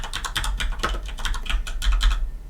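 Quick, irregular clicks of a computer keyboard as Java code is typed, a close, light patter of keystrokes at a steady pace with no voice.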